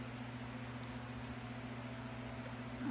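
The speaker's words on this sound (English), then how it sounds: "I do have the fan on, so you could probably hear that in the background" An electric fan whirs steadily in the background, a faint constant hum with a low drone, unchanging and with no voices over it.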